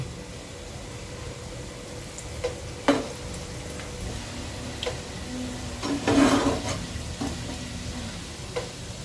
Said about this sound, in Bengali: এবার উল্টে দিচ্ছি অন্য সাইডটা ভেজে নেওয়ার জন্য।